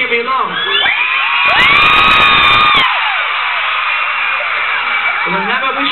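A crowd at a 2010 Camp Rock concert screams and cheers loudly, swelling to a peak in the middle with a burst of noise and then staying loud, full of high-pitched shrieks.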